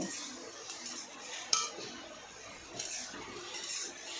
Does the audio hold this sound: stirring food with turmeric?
yes